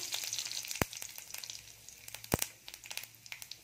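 Mustard seeds frying in hot oil for an Odia prawn curry, a faint steady sizzle with scattered crackles and two sharp pops from bursting seeds.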